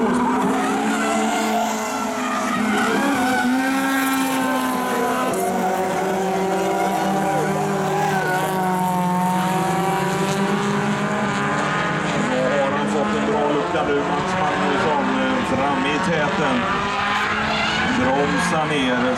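Super 2150 class rallycross cars race at Kinnekulle Ring, their engines howling and rising and falling through gear changes, several cars overlapping loudly and continuously while a commentator talks over the racing.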